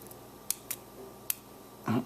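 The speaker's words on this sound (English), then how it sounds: "Oh, big click out of five." Clicks of pins inside a 5-pin mortise cylinder lock being picked, with a few small, sharp, isolated ticks spaced apart, close and quiet, followed by a brief duller rub at the end.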